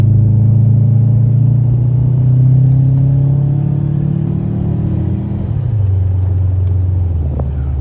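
A 2005 Subaru Legacy GT accelerating on the road, its engine droning loudly and steadily with a rising pitch, then dropping briefly around a gear change before pulling again, with constant road rumble and no talking.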